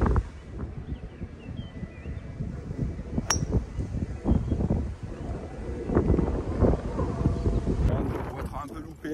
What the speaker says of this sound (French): Là, il y a du vent terrible.